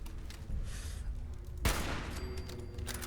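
Gunfire in the video game Fallout 4: one sharp, loud shot bursts out about halfway through, following a low, steady rumble of game ambience, with a softer ringing tail after it.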